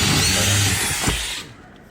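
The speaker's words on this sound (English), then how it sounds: "Just drill a hole in each corner." Power drill boring holes through the corners of a wall marked out for a window opening, siding of T1-11 type; a steady loud whirring drill runs for about a second and a half, then stops.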